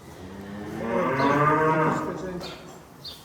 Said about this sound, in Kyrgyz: Уйларым О, уйлар экен.